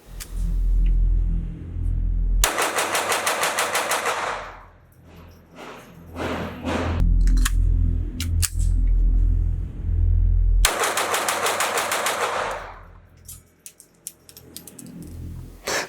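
A Ruger 22/45 Lite Mk IV target pistol fires two long, rapid strings of shots in quick succession, loud and close, with scattered single reports between them.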